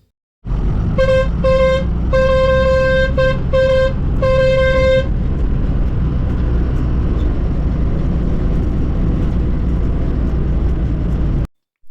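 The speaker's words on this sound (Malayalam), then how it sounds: "വളവിലെത്തുമ്പോഴാണ് ബസ് ഹോൺ മുഴക്കുന്നത്." Bus on a Himalayan mountain road sounding its horn in a rapid run of short toots, then a loud steady engine drone and road rumble.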